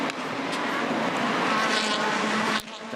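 Aussie Racing Cars roar past on the Gold Coast street circuit, engines whining continuously at moderate distance, with a brief sharp burst near the end.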